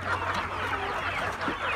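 A group of Lohmann Brown laying hens clucks continuously and busily nearby, a dense overlapping chatter of short calls with no talking.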